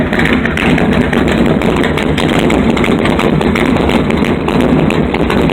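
Straight-piped 5.9 Magnum V8 with a Hughes cam in a 1968 Plymouth Satellite idles loud and steady, with an exhaust leak, a dense continuous rumble with a choppy low pulse close up and no talk.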